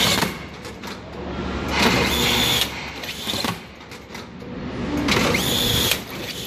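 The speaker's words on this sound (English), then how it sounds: "once you've given ample time for the blade to heat up, you can start strapping." A strapping machine with a heated blade runs a strap, a loud whirring mechanical drone that surges in two long cycles with whining tones and clacks, close up.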